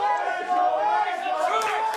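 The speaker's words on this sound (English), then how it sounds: "Crowd giving him jip about his..." A wrestling crowd jeers a wrestler at an indoor show, a loud mass of chanting, jeering voices filling the whole brief moment with shouted tones rising over a crowd roar.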